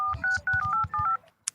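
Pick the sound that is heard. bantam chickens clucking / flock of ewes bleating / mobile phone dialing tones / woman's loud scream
mobile phone dialing tones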